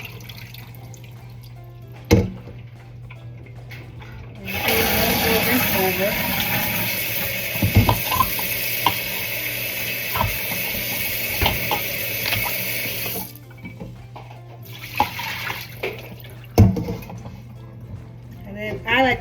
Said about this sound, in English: I'm going to dump that water.